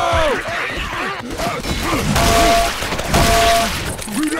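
Rapid gunfire while shooting armored zombies in Left 4 Dead 2, dense bursts of shots and impacts mixed with game chaos, with voices talking over the action throughout.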